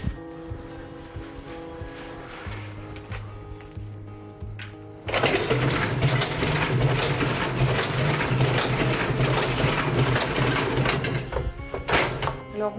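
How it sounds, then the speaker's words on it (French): A sewing machine stitches seams in a rare-trades workshop, its dense mechanical clatter quiet at first and then surging to a loud, continuous run for most of the clip, with faint talk underneath. "Là, c'est la fileuse. On appelle ça couramment, la machine à coudre."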